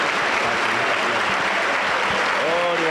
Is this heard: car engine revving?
no